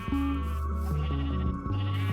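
Sheep in the Minecraft video game bleat over steady tonal background sounds, wavering nasal calls heard up close.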